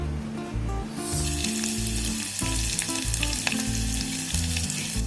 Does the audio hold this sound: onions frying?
yes